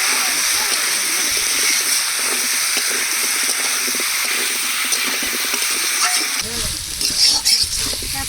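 Giant taro frying with spices in a pan, a steady loud hiss and sizzle throughout, with a shift to bubbly clatter near the end.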